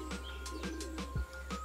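A common starling gives a quick run of short, faint chirping calls at an even rhythm, heard alone.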